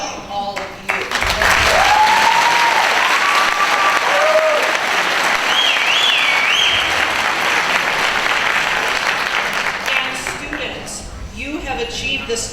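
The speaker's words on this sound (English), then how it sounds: "we applaud all of you" Loud, sustained applause from a large audience at a 2015 education center graduation ceremony, a dense wash of clapping that fills nearly the whole clip with a few faint voices and whistle-like tones above it before fading near the end.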